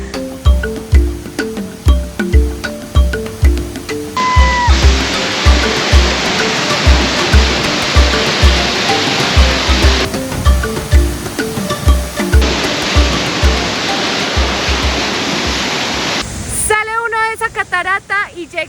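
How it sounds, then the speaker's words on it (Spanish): A large, swollen waterfall in Peru roars with a continuous heavy rush of falling water, loud and close, with voices and rhythmic thumping heard over it at times. "tenemos que pasar por detrás de esta catarata para poder llegar a Yumbilla, pero está bastante crecida"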